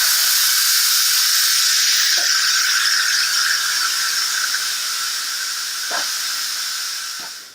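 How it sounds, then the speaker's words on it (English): An Instant Pot pressure cooker vents its pressure after cooking ham and bean soup, giving a loud, steady hiss that runs for several seconds. A few faint clicks and rattles sit under it before the hiss fades at the end. "Now we have to let some of that pressure air out."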